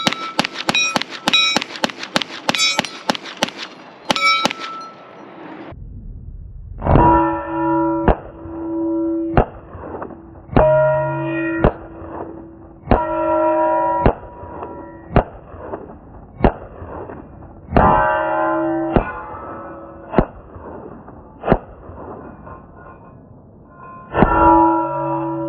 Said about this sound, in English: this time I'm going to do rapid follow-up shots on the big target